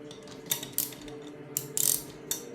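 A tensioning screw is turned by hand against a compressing spring while working on a 1978 Ford F150 with a 351M engine, giving a few sharp ratcheting clicks and creaks spaced irregularly, close up.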